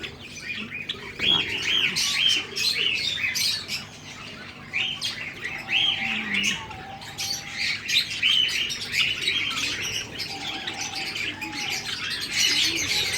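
Java sparrow chicks and adults chirp and tweet continuously in a breeding cage, a busy high twittering chorus with occasional soft coos and wing flutters, steady throughout.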